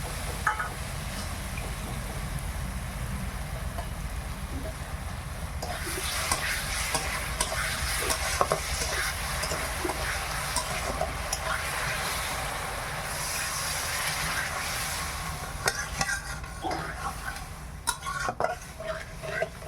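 Sugared chutney stirred and sizzling in a pan over a village kitchen fire, a steady frying hiss with scraping spoon strokes throughout, close and fairly loud, no talking.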